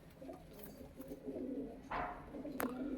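A white-eyed white pigeon of the Punjabi Malwai breed coos softly in low, throaty, repeated notes over faint background noise, with a couple of brief brighter sounds near the end.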